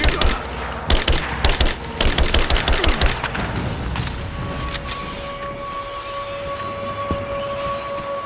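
Rapid gunfire in the Rise of the Tomb Raider video game, dense bursts of shots crackling for about three seconds before thinning into scattered pops and a lingering ringing tone.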